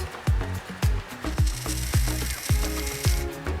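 A small servo motor wired to an Arduino ratchets in repeated clicking strokes, about two per second, loud and close, with no talk.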